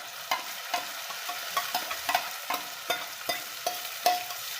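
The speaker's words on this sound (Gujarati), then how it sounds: "જો બસ હવે ડુંગળી થઈ ગઈ છે તો હવે હું આ પાલકની પ્યોરી છે ને એ નાખી દઉં." Spinach puree being stirred into fried onions in a pan for dal palak, giving a steady hiss of sizzling broken by regular scraping spoon strokes, close and fairly loud, with no voices.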